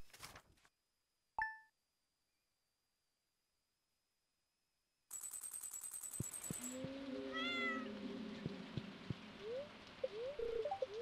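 A cat meows in the video game Stardew Valley, with several short, close meows amid soft ambient game sounds and rain-like hiss, after a chime near the start and a stretch of silence.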